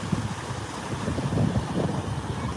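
Rough sea waves wash over a beach of smooth pebbles during a typhoon in Camarines Sur, a continuous rumbling surge with wind noise and no voices, the swell building and easing in a broad steady wash.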